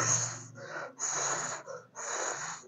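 A voice imitates the wheezing breath of a pollen allergy: three raspy, whistling breaths in and out, close and rhythmic.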